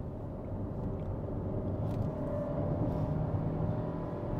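A Hyundai Creta with a new 4-cylinder engine cruises smoothly, giving a steady low cabin rumble of engine and road noise that holds even and continuous throughout, with no talk.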